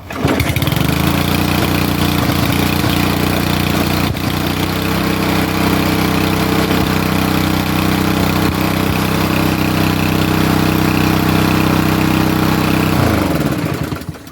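A lawn mower engine salvaged from the trash starts up and runs steadily, a loud, close, continuous droning rumble that holds for the whole stretch and then cuts off at the end.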